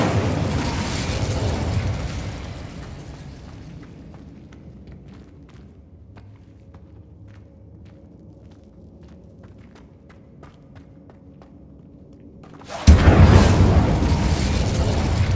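An Incendio fire spell cast in Hogwarts Legacy goes off as a sudden loud burst near the end, after a long quiet stretch with faint ticking steps.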